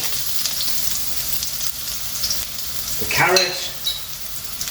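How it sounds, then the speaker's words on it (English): Vegetables sizzle steadily in garlic-infused chili oil in a hot frying pan, with a brief spoken phrase and a louder burst of hissing as something is tossed in. "I love that sound. I love the sizzle."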